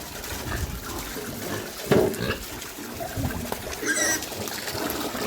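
Water is splashed over pigs on a hot day, with trickling and splashing close by, a brief louder splash, and faint grunts and some light background noise.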